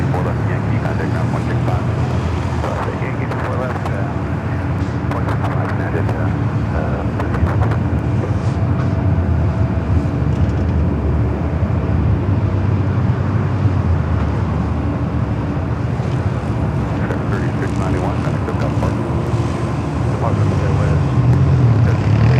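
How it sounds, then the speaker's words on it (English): A Boeing 777 airliner arriving from Chicago O'Hare roars low and steady as it comes in to land at LAX, a continuous broad engine rumble with a voice talking over it. "777 coming in from Chicago, O'Hare, flight 1363"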